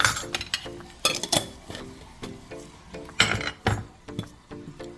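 Teaspoon clinking against a pot and bowl while dry jerk seasoning goes onto oxtail: a string of close, sharp metallic taps and clinks in irregular rhythm, without any voices.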